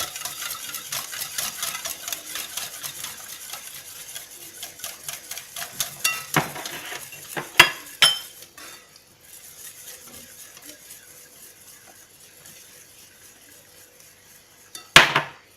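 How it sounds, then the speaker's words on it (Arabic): Chocolate cake batter is stirred with flour in a bowl, making a quick rhythmic scraping and clicking at close range that fades to quieter strokes. A sharp knock sounds near the end. "كنحركوه مزيان"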